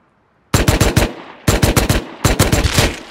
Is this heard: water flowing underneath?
no